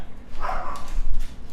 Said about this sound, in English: She likes to bark.